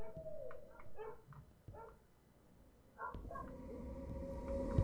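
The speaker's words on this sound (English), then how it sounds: "There's a dog barking." A dog in the game Necrosis lets out a few short yips and whimpering barks at moderate distance, then goes quiet before a low ambient rumble and hum take over.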